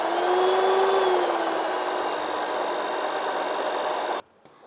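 A Cosmos CM-1679 hand mixer runs at speed 5 with a loud, steady motor whir and slight pitch wobble, then cuts off abruptly near the end.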